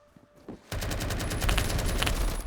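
Rapid automatic gunfire from the video game Phantom Forces, a loud, dense burst of shots that starts abruptly after a moment of quiet and carries on steadily to the end.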